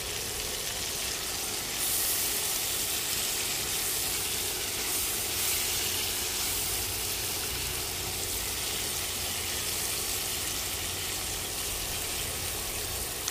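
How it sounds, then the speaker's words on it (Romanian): Bell peppers in four colours frying in a pan alongside chicken breast, a steady bright sizzle and hiss that holds evenly throughout, briefly a little louder near the start, with no talking. "Ardeiul nu trebuie prăjit foarte, foarte mult."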